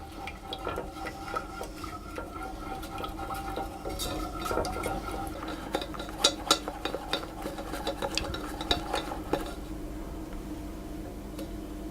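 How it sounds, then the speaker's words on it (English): A lemon cheesecake egg mixture is stirred constantly in a pan on very low heat, giving soft scraping and light clicking of the utensil against the pan, quiet and close, growing more tapping toward the end. "So it's going to be on a very low heat so that the eggs don't curdle. And you want to stir all the time."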